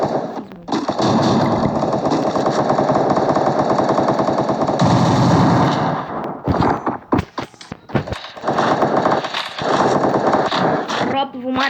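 Rapid automatic gunfire in the Free Fire mobile shooter game, loud sustained bursts that break into shorter volleys and single shots near the end.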